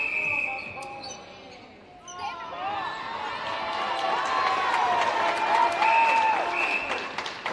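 A crowd cheers and applauds at a men's under-20 New Zealand v Australia rugby match: a broad swell of cheering that builds and holds, while commentators talk over it.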